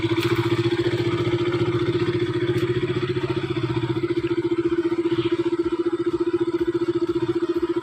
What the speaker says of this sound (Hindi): बाइक जो वार्म अप हो रही है।